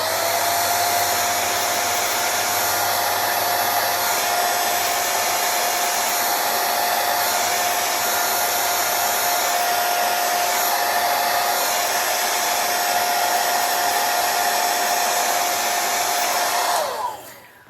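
A hair dryer blows steadily on a synthetic wig. The loud, continuous whooshing airflow carries a constant motor whine, runs unbroken for about seventeen seconds, then cuts off sharply at the end.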